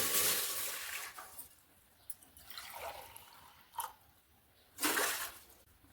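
Water poured into a pot on a gas stove to boil for half a kilo of sabudana chakli, heard as a few close splashing gushes separated by short pauses, with no talking.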